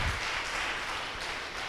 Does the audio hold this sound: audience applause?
yes